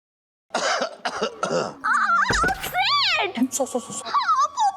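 Several coughs mixed with animated voices and a whining, melodic tone, fairly close and loud.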